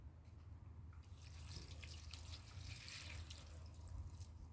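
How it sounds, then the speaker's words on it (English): Water pours steadily outdoors as natural foraging items for degus are rinsed on the ground; a continuous splashing rush starts after a brief quiet moment and keeps up, close and fairly loud, with no talking. "Okay, so we're just gonna rinse them like this."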